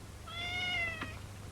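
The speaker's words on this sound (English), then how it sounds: "A cat?" Cat giving a single clear, drawn-out meow at moderate distance over a low background hum, followed by a faint short click, with no talking.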